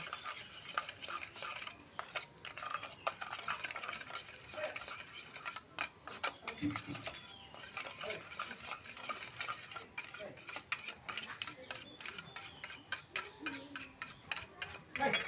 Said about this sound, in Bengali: টেবিল চামচের 1 চামচ চিনি দিয়ে এইভাবে ভালো করে গুলে নেব